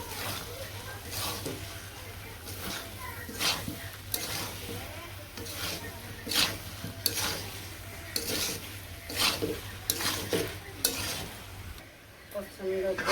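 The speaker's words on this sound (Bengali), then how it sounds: "মশলা কষানো হয়ে গেছে। আমি কাঁঠাল দিয়ে দিব।" Green jackfruit being stirred into sizzling fried spices in a village kitchen pan, with a steady oil sizzle under repeated scraping and clattering strokes of a spatula against the pan.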